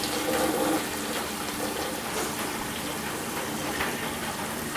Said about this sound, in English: We'll flush it one more time.